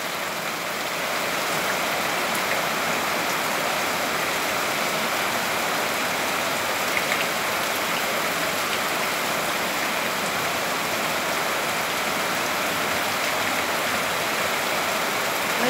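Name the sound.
heavy rain falling at a ranch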